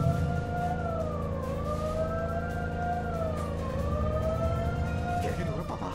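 A video game ambulance siren wails in slow rising and falling sweeps over a dense rumble of traffic and engine noise, loud and continuous, with a faint bit of talk or shouting in the mix.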